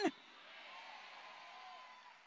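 Church congregation shouting back in unison during a Spanish-language sermon, a sustained crowd roar that follows a brief loud burst and holds steady for about two seconds, with no clear speech.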